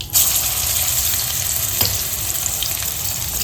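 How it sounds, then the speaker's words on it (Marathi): Ginger garlic paste frying in hot oil for paneer biryani, a steady close hiss and sizzle throughout with a brief crackle, no talking. "तेल गरम झालं आहे आलं लसणाची पेस्ट"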